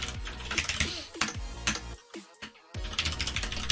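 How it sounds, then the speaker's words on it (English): Rapid typing on a computer keyboard while coding in Visual Studio, dense clattering keystrokes close up with a brief pause midway before the typing resumes. "Still trying to get used to typing prop instead of like using the helper that's built into Visual Studio."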